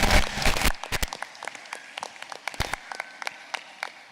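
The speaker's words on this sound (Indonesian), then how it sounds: "Monggo dikasih aplaus." Audience applause at a primary school graduation and Quran memorisation ceremony: a loud burst of clapping at the start that quickly drops to scattered, lighter claps.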